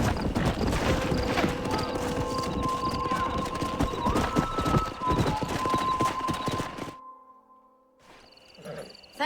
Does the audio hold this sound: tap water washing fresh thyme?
no